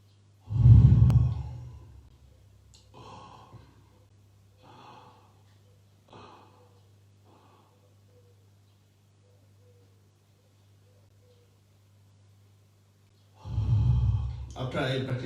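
Deep breaths during Om Ah Hum breathing yoga: a strong inhale or gasp at the start, several short soft breaths and vocal sounds, then another heavy breath near the end, all over a low steady hum.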